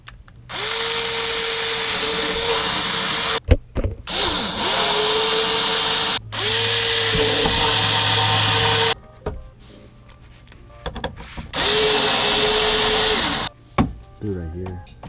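Power tool driving bolts underneath a carbon fiber M&S Force Series diffuser on a Kia Stinger, in several loud sustained bursts with short pauses between, plus a few brief clicks at the end.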